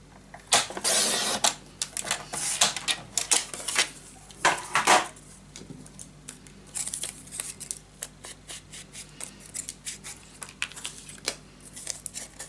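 A paper craft piece for a suitcase mini album is cut in two with scissors, giving a run of crisp snips and rustles, denser and louder at first, then lighter clicks.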